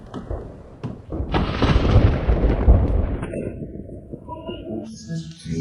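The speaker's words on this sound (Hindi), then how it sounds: "तेज आंधी आने वाली है, बता रहा हूँ, ब्लू अलर्ट है।" Thunder from a strong approaching storm, a deep rolling rumble that builds over several seconds and then fades, loud and fairly close, with sharper cracks at the start.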